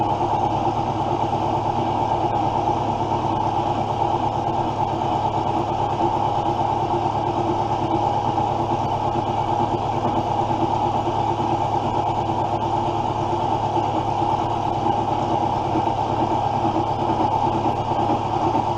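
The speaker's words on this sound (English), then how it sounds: "it's an amazingly sharp cutter. Just taking all the material off" A milling machine with a very sharp cutter steadily strips material from a locomotive part, a continuous loud whirring grind with a low motor hum that holds without a break throughout.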